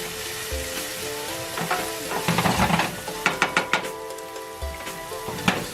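Sofrito vegetables sweat in a pan over high heat, giving a steady close sizzle and frying hiss with occasional stirring scrapes and clinks.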